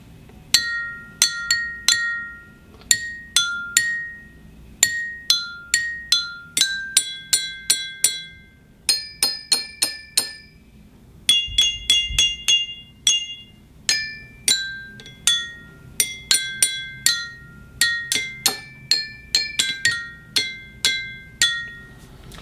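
Drinking glasses are struck one after another in quick clinking notes, bright ringing pitches stepping between two tones a fourth apart, close and clear with short decays and no talking.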